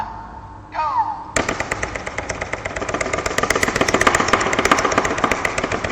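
A small electric motor, set off by a touch sensor, starts with a sharp jolt and then runs with a loud, rapid, steady clatter after a brief whine.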